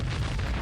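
Played explosion sound effect, a short dense broadband boom with a deep low-end rumble, loud and unbroken with no talking.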